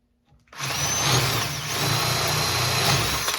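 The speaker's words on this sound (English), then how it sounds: "Now I'm going to drill through with the 7/16 brad point bit." A power drill bores through a wood countertop with a 7/16 brad point bit, a loud steady whine that starts abruptly and runs continuously with a slightly grabby, uneven load, close up and without talk.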